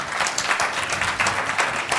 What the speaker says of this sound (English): So I think all of you deserve a big,